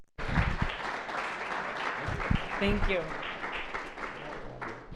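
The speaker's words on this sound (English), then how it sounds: "let's give her a round of applause" An audience gives a guest lecturer a warm round of applause as she walks up to speak. Many hands clap steadily throughout, and she speaks briefly over the clapping.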